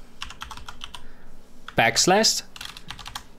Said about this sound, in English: go to the URL, and you type localhost